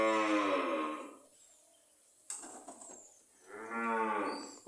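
Cattle on a farm with a young Friesian bull, two long, loud, close moos separated by a quiet pause with some rustling and clatter in between.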